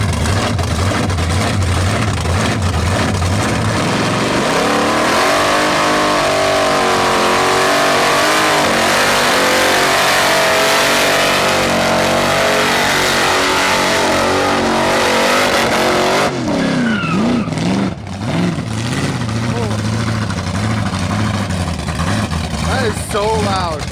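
The Warbird car's engine revs loudly and steadily, rising in pitch through sustained high-rpm pulls, then shifts to rougher, fluctuating revving near the end, close and dominant with faint voices behind.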